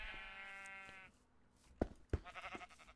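A sheep in the Minecraft video game bleats in a long wavering cry, followed by a couple of sharp game clicks and soft shuffling.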